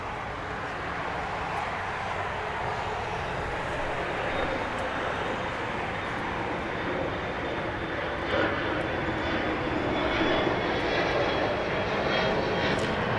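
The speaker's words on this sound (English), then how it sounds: "there's a Hawaiian aircraft" A Hawaiian Airlines jet at Los Angeles International Airport roars with a steady, loud, broadband engine rush that holds evenly throughout.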